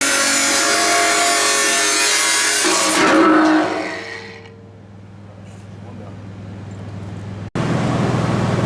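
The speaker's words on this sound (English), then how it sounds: "since the saw didn't cut quite all the way through, we'll just take the grinder and hit it right there" An angle grinder cutting through the uncut remainder of a saw kerf on a canopy build, a loud steady whine that winds down, then restarts abruptly, with a voice over it.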